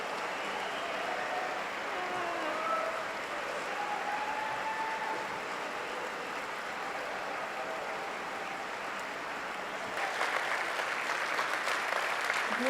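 Audience at a Rotary International president-elect speech giving a standing ovation, steady dense applause filling the whole stretch and swelling slightly louder toward the end, with no talking over it.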